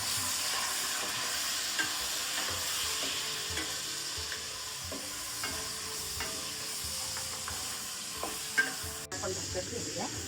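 Green peas frying in oil over medium heat, a quiet, even sizzle with scattered light pops and occasional spoon scrapes against the pan; no one speaks.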